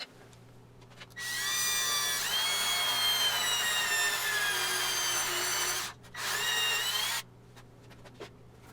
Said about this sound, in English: I take a 1/2 inch brad point bit and make some marks for where the height adjustment dowels need to go